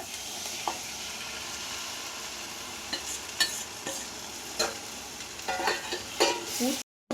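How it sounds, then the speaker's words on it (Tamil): Beaten eggs hit softened frying onions in a pan, a steady sizzle with spatula scrapes and clinks growing busier toward the end, close by. "கொஞ்சமாக வெங்காயம் நல்லா வதங்கிச்சு இப்போ உடச்சி வச்ச முட்டை இதில் ஊற்றிக்கலாம்"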